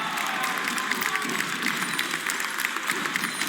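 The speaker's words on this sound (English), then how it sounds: "Man, I'm loving this crowd." A large esports arena crowd at a League of Legends European Masters final applauds and cheers, a dense continuous wash of clapping with no clear breaks.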